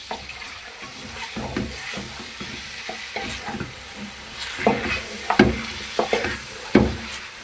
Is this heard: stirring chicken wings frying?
yes